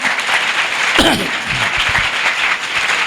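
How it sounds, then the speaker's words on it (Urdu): A congregation applauds loudly at a New Year midnight church service, with dense, sustained clapping throughout and a voice briefly audible within it. "آئیے زوردار تالیاں خداوند کے لیے بجائیں"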